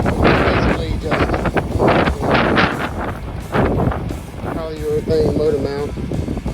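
Strong outdoor wind blasting into the microphone during work on a 1969 Chevelle frame, loud low gusty roaring bursts that rise and fall, with a voice briefly heard near the end.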